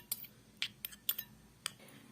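A spoon mixing momos sauce in a bowl, giving five or six quick, separate clinks and scrapes spread over about two seconds, fairly close and otherwise quiet.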